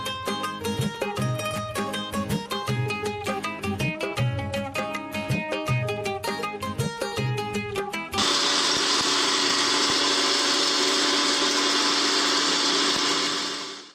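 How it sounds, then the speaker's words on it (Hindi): A kitchen mixer grinder whirs loudly as it grinds green chillies and coriander, starting with choppy pulsing bursts before settling into a continuous high whine that cuts off at the end. "अब इसको डाल लेते हैं मिक्सी में, इसको भी पीस के रख देते हैं।"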